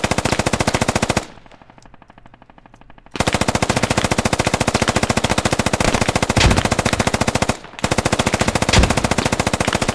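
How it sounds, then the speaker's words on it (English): Sustained machine-gun fire in the military shooter game Squad, long dense bursts of rapid, loud, close shots broken by one pause of about two seconds and a second very brief gap, with no speech. "Who's machine gun is that?"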